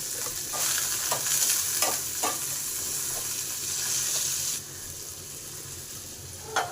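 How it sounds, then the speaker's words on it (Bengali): Bitter gourd pieces frying in a pan with salt and turmeric, a steady close sizzle broken by a few scraping stirs, with the hiss dropping off sharply near the end before one last clatter. "সবার প্রথমে উচ্ছেগুলো আগে ভেজে নেব।"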